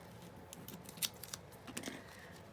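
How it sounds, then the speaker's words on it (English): A few quiet scissor snips, crisp and close, cutting through paper at an irregular pace with pauses between. "use my scissors again right here on this piece"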